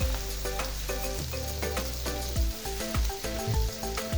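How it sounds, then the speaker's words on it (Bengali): Onion and chili fry in oil for a fish jhal fry, giving a loud, steady sizzle. Stirring and scraping clatter over it at intervals. "এখানে তেলটা একটু সাইড করে নিতে হবে, যাতে এই তেলে পেঁয়াজ মরিচটা"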